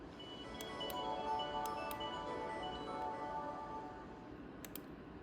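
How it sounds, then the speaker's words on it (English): The Windows 2000 Build 1946 logon sound, a soft, sustained synthetic chime, swells and fades over several seconds, with a few faint clicks scattered through it. "Windows logon sound."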